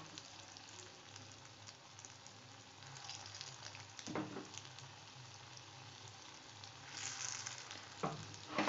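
Then mittai batter, a sweet fried snack, drops into hot oil over a low flame and sizzles steadily and softly close by, with a couple of brief clinks or stirs and no talk.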